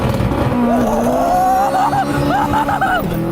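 A turbocharged all-wheel-drive race car with a stock K20 engine drives past, its engine note rising and shifting through several quick revs, with people talking over the sound.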